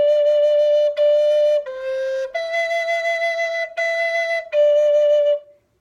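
Inkapata flute playing the opening two bars of a tune, a clear breathy whistle-like melody of about six sustained notes with short breaks between them, alone and close.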